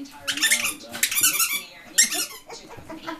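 A squeaky dog toy being squeezed, several loud, close, high-pitched squeaks in quick bursts with a dog's play noises and a person talking around them.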